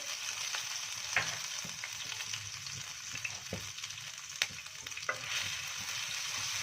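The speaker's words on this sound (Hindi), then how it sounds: "तो अदरक लहसुन का पेस्ट है 1 टेबलस्पून ये हम इसमें डालेंगे।" A soft, steady sizzle of ginger garlic paste frying on a small hot griddle, with a few light taps and scrapes of a spatula breaking through.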